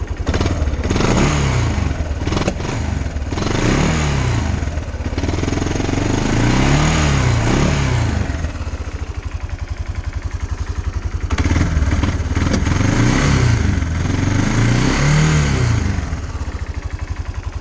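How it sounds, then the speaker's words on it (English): A cheap used ATV with the choke wide open revs up from idle in repeated rising and falling surges, loud and close, its engine chugging steadily between pulls. "But let me rev it up some."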